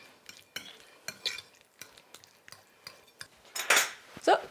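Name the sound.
mixing ingredients together in a bowl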